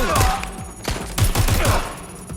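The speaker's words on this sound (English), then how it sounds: "Taking fire!" Rapid bursts of gunfire in the Watch Dogs: Legion video game, dense overlapping shots in quick volleys, loud and close, with a voice briefly underneath.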